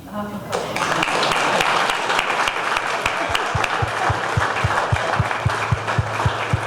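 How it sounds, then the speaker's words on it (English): Crowd applause at a Tulsi Gabbard campaign stump event in Cedar Rapids, a broad roar of clapping that swells quickly and holds, with a few louder individual claps standing out near the microphone. "Give Grace a round of applause."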